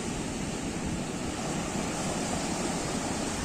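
Large sea waves break and roar continuously along the shore at Tondavali, a dense, steady wash of surf filling the whole stretch with no pauses.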